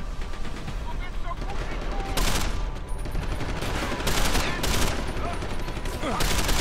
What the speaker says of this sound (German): Ich wollte auf das Fass schießen, aber es geht nicht hoch, leider.